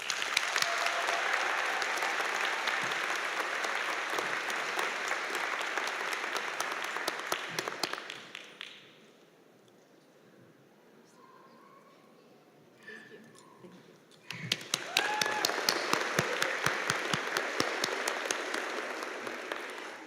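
Graduation ceremony crowd applauding an honoree, a loud sustained burst of clapping that drops away to a quiet hall with faint murmurs, then surges back just as strongly.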